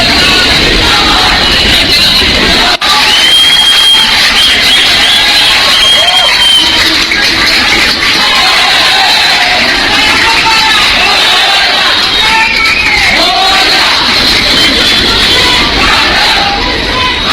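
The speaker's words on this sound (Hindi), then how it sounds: "चंद्रयान चांद पर उतरा, उसके बाद अंधेरी में भीड़ देखिए और लोगों का रिएक्शन सुनिए।" A large crowd in Andheri, Mumbai reacts to the Chandrayaan-3 moon landing with a loud, dense roar of shouting, cheering and babbling voices that never lets up.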